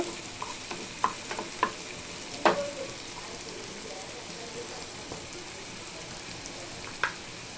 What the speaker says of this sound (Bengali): আমি পেঁয়াজটাকে একটু সুন্দর করে বাদামি কালার করে নেব